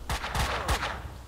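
Rapid bursts of gunfire in the Max Payne 2 video game, three sharp loud shot clusters in quick succession with echoing tails, no talking.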